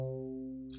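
Thick, chorus-like chiptune synth tone from the Deflemask tracker with its detune sliders switched on, a single sustained harmonic-rich note held steadily for under a second before cutting off.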